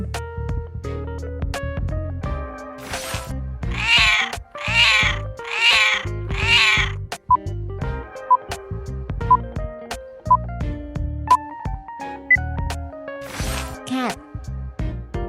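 A cat meows four times in quick succession, clear and fairly close, over a bed of background music that continues after the calls.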